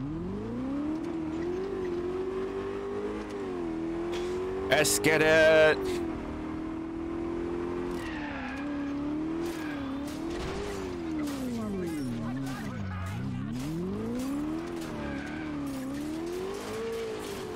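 A car in the video game Crackdown revs and drones continuously with engine pitch rising and falling, a short burst of skidding or impact noise partway through, while someone talks over it.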